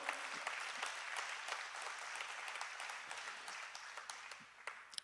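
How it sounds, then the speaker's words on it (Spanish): A church congregation gives applause during a service, a steady crowd of hands clapping with sharper individual claps standing out, fairly faint and distant, tapering slightly toward the end. "Dale un fuerte aplauso al Señor."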